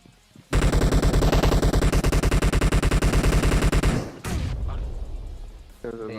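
Rapid automatic gunfire from PUBG Mobile, a loud sustained burst of evenly spaced shots lasting several seconds, followed by a sharp blast and a noisy rumbling tail.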